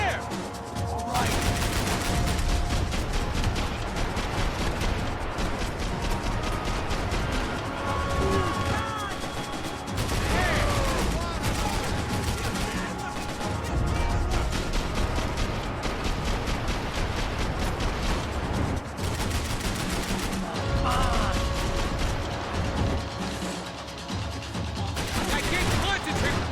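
Dense, continuous gunfire and bullets whizzing past in the shooter game Max Payne 3, loud and nearly unbroken throughout, with scattered sharp bursts and a voice talking over the chaos.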